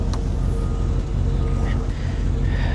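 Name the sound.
2006 Pontiac GTO engine running a little rough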